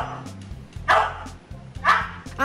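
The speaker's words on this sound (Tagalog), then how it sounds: "Ang aso ito, mistulang math genius at kayang itahol ang mga numero." A dog barks twice, sharp and close, with a short yip at the end over a faint steady background hum.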